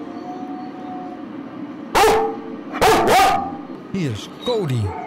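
Dogs bark loudly and close by in short bursts: a single bark, then a rapid double bark, then a few yips and whimpers after a quiet opening.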